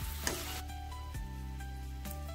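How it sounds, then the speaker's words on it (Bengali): Jhuri bhaja fries in hot oil with a steady, close foamy sizzle that runs throughout, broken by a few faint clicks and small bubbling pops. "এই যে দেখো, যত ভাজা হতে থাকবে ফেনাটাও কমে আসবে।"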